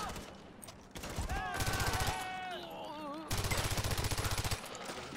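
Rapid automatic gunfire from a high fire-rate gun in the video game Far Cry 4, fast rattling bursts in two long strings separated by a brief lull, with a person's voice and other game sounds running underneath.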